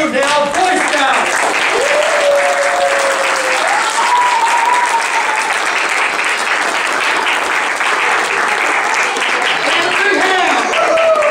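Sustained applause from an audience at a Cub Scout Pack 439 crossover and Arrow of Light ceremony, steady dense clapping filling the room for the full stretch, with voices cheering and calling out over it.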